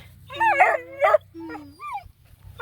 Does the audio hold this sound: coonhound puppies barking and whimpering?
yes